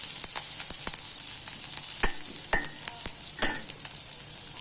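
Urad dal and drumstick leaves sizzle steadily in a hot pan of oil, a bright continuous crackle close by, broken by a few spatula scrapes and taps while stirring.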